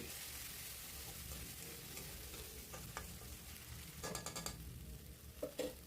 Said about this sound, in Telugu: అల్లం వెల్లుల్లి పేస్ట్ వేసి కలుపుకోవాలి ఈ అల్లం పేస్ట్ పచ్చివాసన పోయేంత వరకు కలుపుకోవాలి